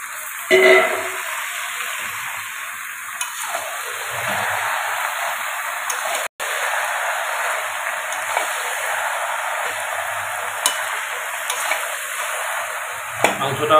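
Marinated mutton sautéing in a pan for a spicy Kolkata-style mutton curry gives a steady, close sizzle with occasional stirring clinks, heard alone without talk.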